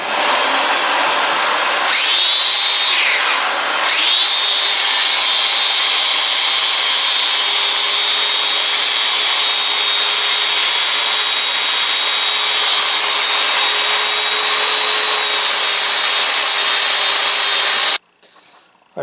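A Domino joiner makes a plunge cut in wood: a loud, steady motor whine close by, dipping briefly in pitch near the start, then holding for most of the clip before shutting off.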